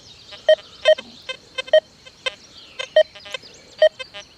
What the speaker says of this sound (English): If I go to 0, I hear the nail with high tone.